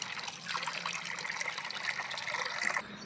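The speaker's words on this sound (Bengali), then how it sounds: "চিংড়ি মাছগুলো ধুয়ে সুন্দর করে পরিষ্কার করে নিচ্ছি।" Tap water runs steadily over prawns being washed in a kitchen, a soft continuous gush and trickle for about three seconds that cuts off abruptly at the end.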